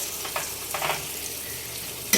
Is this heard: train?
no